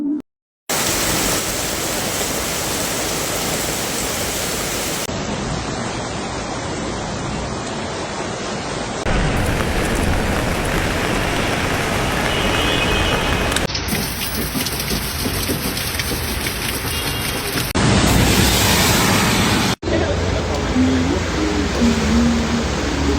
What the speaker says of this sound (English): Drop after drop pounding rooftops, stone streets, and ancient walls.